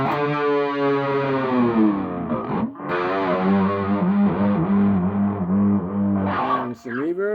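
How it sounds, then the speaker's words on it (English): Electric guitar played through a Peavey Classic Chorus 212 amp with the chorus effect on, sustained shimmering chords ringing loud and alone with a brief gap midway. "let's see what it sounds like with the chorus on there too"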